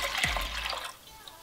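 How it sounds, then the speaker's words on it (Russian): Dried peas tumble into a pot of water in a kitchen, a brief close splash and pour followed by fading trickling. "2 стакана гороха отправляю в 6 стаканов воды."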